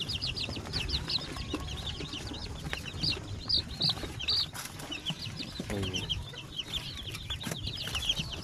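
Newly hatched chicks fresh from an incubator, a chorus of high, rapid peeping chirps over a busy background of clucking farm fowl and low rustling.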